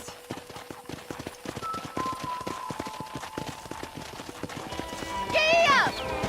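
Rapid rhythmic hoofbeats of a galloping horse in the video game Red Dead Redemption, steady over a music-like tone, ending with a loud horse whinny near the close.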